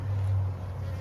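A dense, steady buzzing of a honeybee swarm on a tree drones continuously at close range, with no voices.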